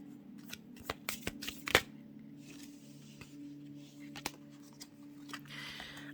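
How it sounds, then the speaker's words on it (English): Tarot cards riffled and shuffled by hand at close range: soft rapid flicks and sharp snaps in irregular bursts over a quiet, low hum. "So let's get one more shuffle."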